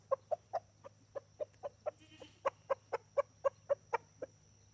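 Roosters and chickens cluck over fish guts in a farmyard, a close series of about seventeen short, evenly spaced clucks with brief gaps and no speech.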